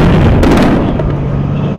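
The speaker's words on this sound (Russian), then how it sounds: "К задаче уничтожения огневых точек подключается артиллерия." A loud, sustained rumble of heavy artillery fire during combat in Syria, with overlapping booms, cutting off abruptly at the end.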